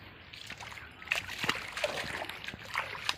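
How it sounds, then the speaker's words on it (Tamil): Rainwater splashes and sloshes as it flows out through a channel cut in a farm field, a close, irregular run of small splatters and gurgles over a low, continuous trickle. "கரெக்டாக சாலுக்கு வழியாக தண்ணி போய் சாலுக்கு அந்த வழியாகவே நல்லா கரெக்டாக வெளியே போகுது சார்."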